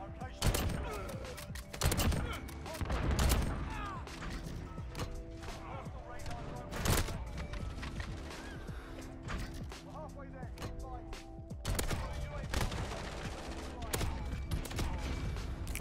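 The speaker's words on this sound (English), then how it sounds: "Oh my god, those shots were nasty, bro." Sniper rifle shots in the Call of Duty Modern Warfare video game ring out as several sharp, loud cracks spaced a few seconds apart, over busy game noise and a voice talking.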